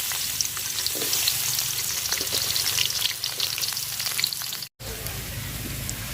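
Garlic, onion and green chillies sizzle steadily in hot oil for a dried-fish curry, a dense continuous frying hiss with occasional stirring scrapes, cut by a brief silent break near the end.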